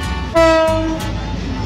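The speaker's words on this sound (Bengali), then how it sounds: "ঢাকাগামী ট্রেনটি এইমাত্র এইখান দিয়ে চলে যাচ্ছে" A Dhaka-bound train passes near a village market station in Bogra, sounding one long loud horn blast over the heavy rumble and rattle of the cars rolling by.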